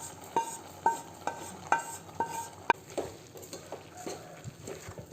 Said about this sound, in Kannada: ಸ್ವಲ್ಪ ತೆಂಗಿನ ತುರಿ, ಕರಿಬೇವು ಸೊಪ್ಪಿನ ಜೊತೆ ಫ್ರೈ ಮಾಡ್ತಾ ಇದ್ದೇನೆ